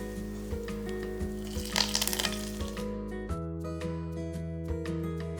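Curry leaves hit hot oil for cowpea mallum, giving a loud, steady sizzle with crackling pops that flares briefly, then settles into a quieter fry.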